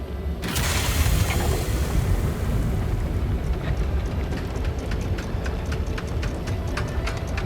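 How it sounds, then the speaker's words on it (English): A dense, rumbling gurgle like thick lava bubbling in a character's chest in Baldur's Gate 3, loud and continuous, with scattered crackles over the low churning. "That shit sound like lava in her chest."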